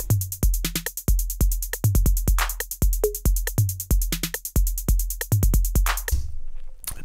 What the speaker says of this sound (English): I have prepared a very basic beat just using the 808 kit that comes with Ableton, and it just sounds like this